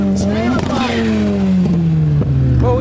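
A car engine revs hard in a rev battle, a loud sustained tone sliding slowly down in pitch with brief sharp blips, as voices talk over it.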